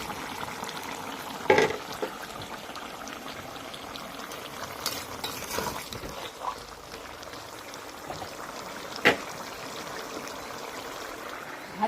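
Shati fish sizzles in hot oil in a pan as papaya-potato curry is started, a steady frying hiss with a few sharper spits and pops and occasional utensil clinks.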